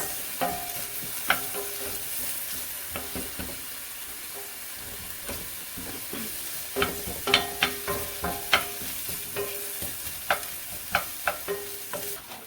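Onions frying and softening in a pan while shrimp is prepared for a camarones dish, with a steady soft sizzle under repeated scraping and stirring clatter from a utensil, close and fairly quiet.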